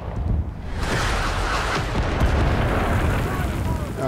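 A heavy artillery blast in Rising Storm 2 swells into a long rumbling roar that sustains for several seconds, loud and broad, while a player's voice is faintly present.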